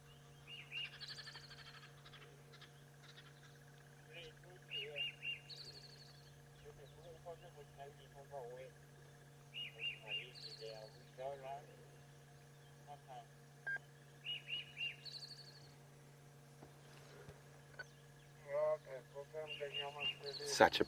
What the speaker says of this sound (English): Now I will play you what the robin sounds like.